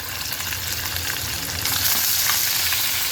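Chopped garlic, ginger and two green chillies sizzle in hot oil for a soybean chilli gravy, a dense, close crackling hiss that grows slightly louder partway through.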